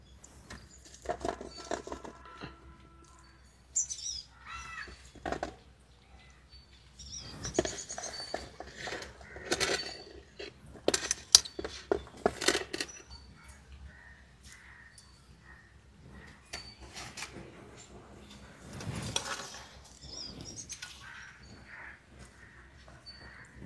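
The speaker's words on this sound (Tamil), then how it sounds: "இதோட வெங்காயம், பச்சை மிளகாலாம் வச்சு நசுக்கிப்போம்." Onion, green chilli, cumin and pepper crushed together by hand for a raw no-cook dish, heard as irregular close thuds and gritty scraping in scattered bursts with quiet gaps between them.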